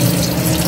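Water pours steadily into a cooking pot to make soup broth, a loud, close, continuous splashing gush heard briefly with no talk.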